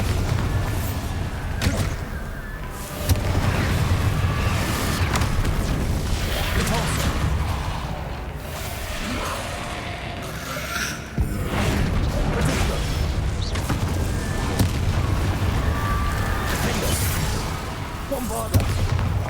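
Bombarda blasting spells exploding in Hogwarts Legacy amid other combat spells: continuous loud booming blasts, whooshes and rumbling impacts layered densely throughout, with voices mixed in.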